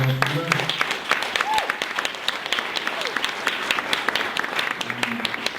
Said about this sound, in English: let's have one more big round of applause for Metro